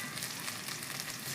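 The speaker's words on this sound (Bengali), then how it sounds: "শুকনা লঙ্কা ফোড়নে, আর দিয়ে দিচ্ছি সরষা, দিয়ে দিচ্ছি আদা রসুন কুচি" Mustard seeds, dried red chili, chopped ginger and garlic sizzle in hot oil, a dense, steady crackling hiss heard up close with no voices.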